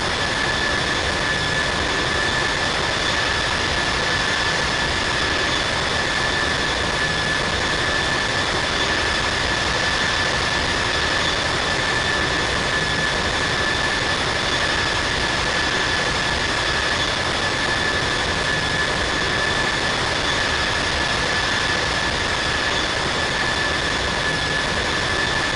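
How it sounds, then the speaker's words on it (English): Jet airliner roaring down Heathrow runway 27 left on takeoff, a steady, broad, loud engine rush holding for the whole stretch with a faint whine on top and no voices. "November 543 Zulu Bravo is taking off runway 27 left"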